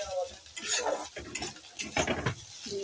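Egg frying with vegetables in a pan while being stirred, giving a steady close sizzle broken by scraping and clinks of utensil against the pan, with no talk over it.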